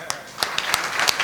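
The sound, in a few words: audience clapping at a kirtan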